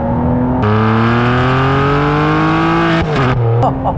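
A 2008 Ferrari 612 Scaglietti with a 540 PS V12 pulls hard, its loud engine note climbing steadily in pitch, then briefly dropping at a gear change before rising again, with no talking.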